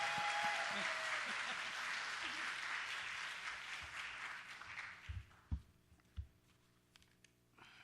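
A church congregation bursts into loud, dense applause and cheering that gradually fades, leaving a few scattered claps and thumps near the end.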